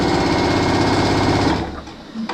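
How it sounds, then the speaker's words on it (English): A sewing machine stitching quilt strips together for a Project Linus blanket runs in a fast, steady mechanical whir, then slows and stops partway through, leaving quiet handling noises. "Can you watch me sew strips together?"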